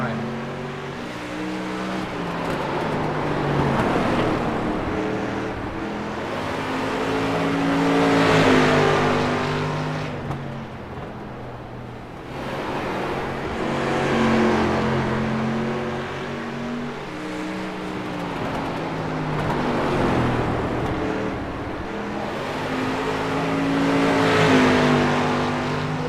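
Street stock race cars lap in an iRacing sim race, with engine tones rising and falling in long sweeping waves as cars pass. A commentator talks over the steady engine drone.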